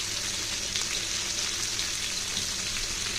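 Hilsa fish frying in a kadai, cooked with taro: a steady, close hiss of sizzling oil runs throughout without a break, with no voices.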